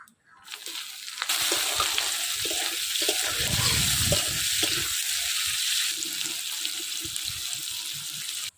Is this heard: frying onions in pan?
yes